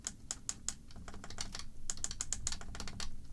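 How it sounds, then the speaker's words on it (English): Computer keyboard volume keys clack in a quick series of crisp, close taps, a few pauses between bursts, with no talking over them. "If I try and use them like on my keyboard, you can hear them."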